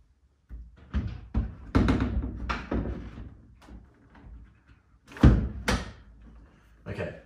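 Heavy metal thunks and knocks as a car door on a wagon is lifted and fitted onto its hinge bolts, several irregular bangs of varying loudness close by, with brief silent gaps between them.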